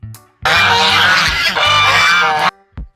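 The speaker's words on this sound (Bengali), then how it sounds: "রাজহাঁসের ডাকে আমাদের সকালে ঘুম ভাঙে।" Domestic geese honk loudly and continuously for about two seconds, a dense overlapping chorus of harsh calls, close by, with a brief final honk after a short pause.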